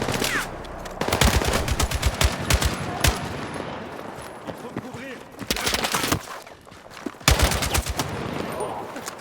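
Rapid automatic gunfire and scattered shots from the Battlefield 6 video game crack in loud bursts, with short pauses between them and in-game voices speaking over the combat.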